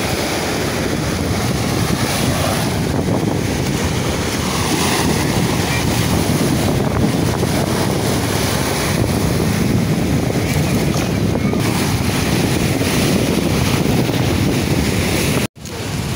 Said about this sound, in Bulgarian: не знам дали нещо ще се чуе заради вятъра и вълните